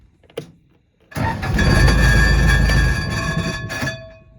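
An engine's starter cranks with a loud, steady grinding whir for about three seconds after a short silence, then drops away with a brief clunk as it locks back up.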